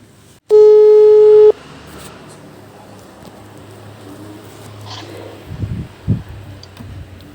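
A video call ringing tone sounds once as one steady electronic tone lasting about a second. Quiet room noise and a few soft knocks follow.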